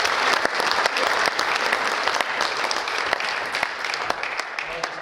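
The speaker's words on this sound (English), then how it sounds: "So maybe a round of applause for them." A crowd claps steadily after a squash exhibition, with a dense, sustained patter of many hands and a few sharper individual claps standing out, holding fairly even throughout.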